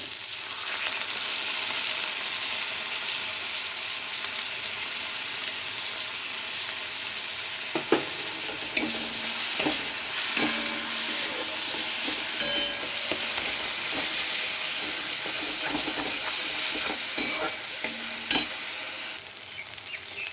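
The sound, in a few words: frying spice masala with yogurt in pan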